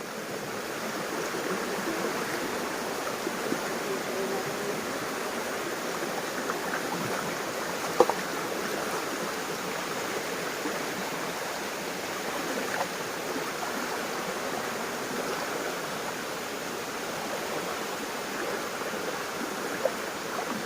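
A shallow stream runs over large stones beside a farm field in rural Konkan, giving a steady, even rush of water from start to finish with no voices.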